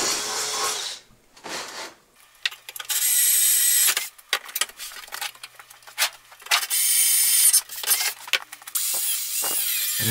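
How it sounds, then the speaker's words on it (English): A step drill lubricated with oil cuts out holes in a steel armoured scout car body, the bit whining in repeated bursts with short pauses and grinding, ratcheting catches between cuts. "A little bit of oil really helps save the drill bits."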